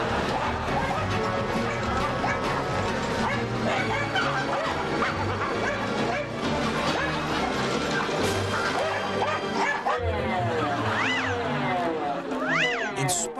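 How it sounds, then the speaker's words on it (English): Several Dachshunds bark and yap excitedly at a running vacuum cleaner indoors, the motor whirring underneath as rapid, overlapping barks and squeals continue throughout. "It may look like these dogs are irritated by the vacuum noise."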